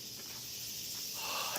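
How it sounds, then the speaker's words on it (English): Cicadas singing outdoors in Beppu, Japan, a steady high buzzing drone that carries through the whole stretch with no talk over it. "Get the sounds of the cicada here."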